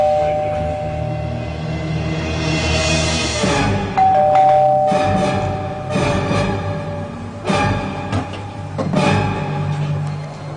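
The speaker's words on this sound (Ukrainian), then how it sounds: "аж раптом дзвінок у двері." A doorbell rings at a home, a bright chime of a few tones standing out over a busy mix of music and other sound.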